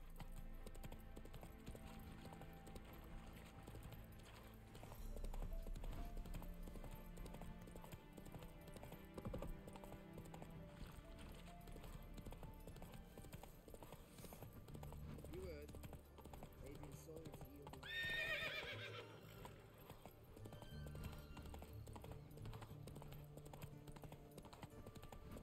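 Roach, a horse in the video game The Witcher 3, gallops with a quick, even clip-clop of hooves that runs throughout, mixed with game ambience and a short whinny partway through.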